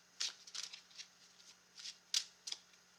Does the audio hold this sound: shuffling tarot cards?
yes